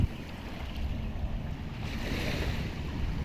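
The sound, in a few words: ocean waves at Kudle Beach, Gokarna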